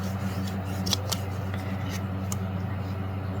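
Sharp snips of scissors cutting yarn while making an Easter toy and bass fish pillow, a few quick cuts standing out over a steady low hum and faint background noise.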